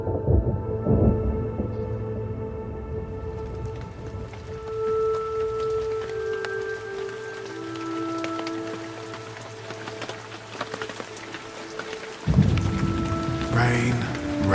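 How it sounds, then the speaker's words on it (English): Rain falls steadily while thunder rumbles, deep rolling peals swelling at the start and again near the end over a constant patter of drops on surfaces, with no one speaking. "Rain, rain, go away."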